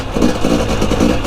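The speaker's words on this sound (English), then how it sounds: "first ride on the 2023 KTM" A new 2023 KTM 250 XCW dirt bike engine running close by, a loud rough pulsing idle with slight rhythmic surges over about a second.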